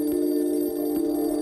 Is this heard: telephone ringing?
yes